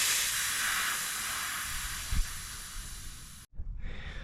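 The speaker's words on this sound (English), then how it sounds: "if you want to release the pressure out of the unit, just pull up on this" A pump sprayer holding about two gallons of pool chlorine solution releases its pressure through a pulled valve, giving a steady close hiss that runs for a few seconds, then cuts off sharply and resumes more faintly.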